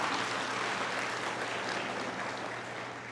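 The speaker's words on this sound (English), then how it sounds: "give us another round of applause for him" An audience at a college commencement ceremony claps in a steady, fairly distant wash that eases slightly toward the end, over a low constant hum.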